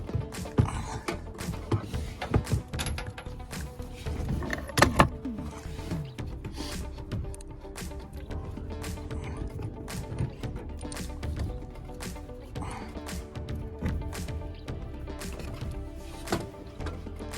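A ratchet wrench with a 3/4-inch deep well socket loosens the top shock nut on a 2019 Ram 2500. Close, repeated mechanical clicks and creaks come in quick uneven bursts, with no talking.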